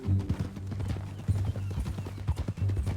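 Horse hooves clip-clop at an easy, uneven walking rhythm in Red Dead Redemption 2, close and moderately loud over a faint low background hum, with no talk.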